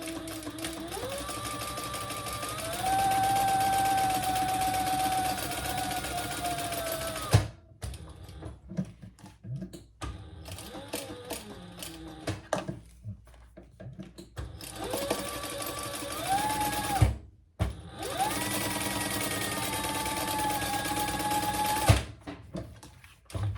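A sewing machine stitches fabric pieces together in several long, steady runs of close whirring and needle chatter, broken by short pauses with small handling clicks.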